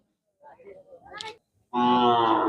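At a cattle market, a cow lets out a long, loud, low moo after a moment of faint murmuring voices.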